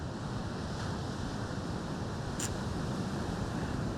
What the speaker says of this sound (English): I'm seeing lovely waves just crashing here